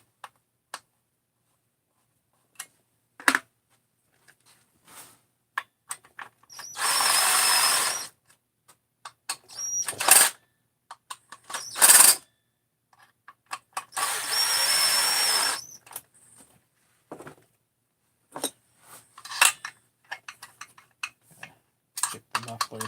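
A power drill drives M5 bolts on a muffler in two sustained whirring bursts, surrounded by scattered clicks, taps and handling knocks in a quiet workshop.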